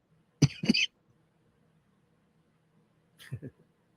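Two quick coughs close up, then a quieter pair of coughs a few seconds later, over faint low background hum.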